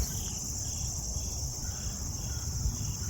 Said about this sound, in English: I hear some crickets.